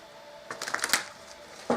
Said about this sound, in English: we will shuffle a little bit for you